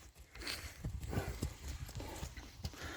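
A stallion's hooves clip-clopping outdoors, a steady irregular series of moderately close hoof strikes over a noisy ambient background.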